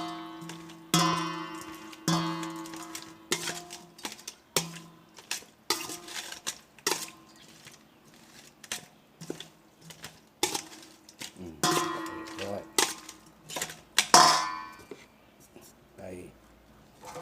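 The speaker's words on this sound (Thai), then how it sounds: "คนครับให้เข้ากัน" Spicy pork-head salad being stirred in a bowl, with repeated clinks and scrapes of a utensil against the bowl in an uneven rhythm, close and fairly quiet, with a soft voice speaking at times.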